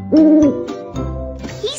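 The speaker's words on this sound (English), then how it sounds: "How do you do, Mr. Snowy Owl?" A cartoon snowy owl gives clear, loud hoots close by, a long tonal call followed by shorter ones, with no talk over it.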